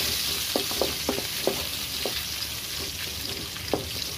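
Cashews, raisins and almonds fry in a couple of teaspoons of ghee for aval payasam, giving a dense, even sizzle with a spoon clicking and stirring at a brisk, irregular pace nearby.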